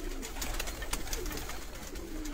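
Old pigeons kept as a rooftop pair in Sialkot coo faintly against a busy, noisy background, with soft low calls and scattered clicks and rustles.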